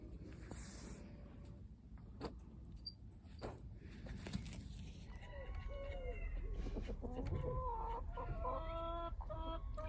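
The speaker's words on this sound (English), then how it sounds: "So the chickens prepare the ground for me" Backyard chickens cluck and murmur nearby in a garden plot, soft scratching and pattering at first, then a run of repeated clucks and calls grows busier toward the end.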